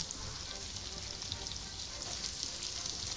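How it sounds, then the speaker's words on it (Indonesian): Steady crackling sizzle of small anchovies frying in hot oil until crisp, continuous and close, with no talking. "usahakan menggoreng ikan terinya sampai kelihatan garing"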